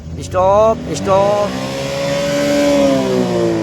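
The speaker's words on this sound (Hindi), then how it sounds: "ब्रेक की जगह आपने रेस पे पैर रखा है।" A car engine revs sharply twice when the accelerator is pressed instead of the brake, then holds a steady whining drone, loud and close, with voices talking inside the car.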